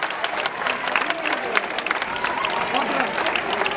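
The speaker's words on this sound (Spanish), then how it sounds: "Un fuerte aplauso" A crowd applauds at an outdoor Sanjuanetan festival performance: a steady, dense wash of clapping and crowd noise running through the whole stretch, with scattered sharper claps standing out.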